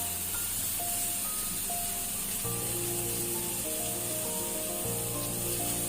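Mushrooms and red pepper sizzling together in a hot pan beside fried steak, a steady bright frying hiss throughout, overlaid by sustained tonal music and no speech.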